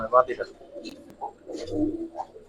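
Giribaz pigeons, silver khaki and army colour types, coo in soft throaty bursts close by, with someone talking over them.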